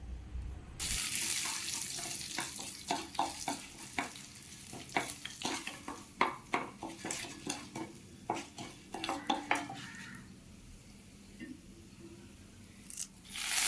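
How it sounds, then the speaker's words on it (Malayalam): Mustard seeds, urad dal and dried chillies sautéing in a pan for a Kerala jackfruit thoran, with a dense run of sharp spatula scrapes and clinks over a soft sizzle, quieter toward the end. "ഉണക്കമുളകും കൂടി അതിലേക്കിട്ട് നമുക്കതിനെ ഒന്ന് വഴറ്റിയെടുക്കണം"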